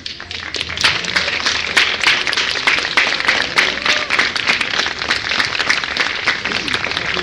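Audience applause at a live event, a dense, steady round of many hands clapping, loud and sustained throughout.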